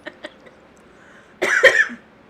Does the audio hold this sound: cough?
yes